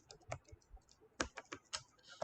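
Java code typed on a computer keyboard, a quiet close run of irregular key clicks in small clusters with brief gaps.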